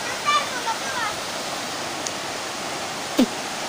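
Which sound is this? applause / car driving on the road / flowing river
flowing river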